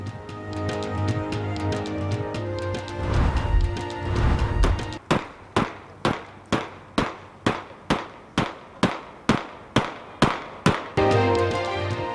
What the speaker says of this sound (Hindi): कराची के इलाके साइट एरिया में मंचलों की सरेआम हवाई फायरिंग